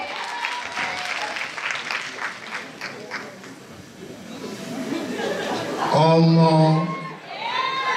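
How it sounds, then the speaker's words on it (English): Audience claps and cheers for a contestant at a university pageant. Scattered clapping and crowd chatter rise, then give way to a loud amplified voice and shouting near the end. "Round of applause for Gabriel."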